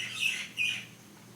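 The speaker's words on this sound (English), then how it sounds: "Sorry about these birds, I live in a tropical rainforest." Tropical rainforest birds give two sharp squawking calls in quick succession, moderately close, with a faint steady hum of the forest beneath and no talk.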